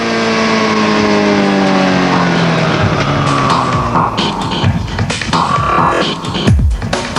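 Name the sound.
2001 Suzuki GSX-R1000 motorcycle engine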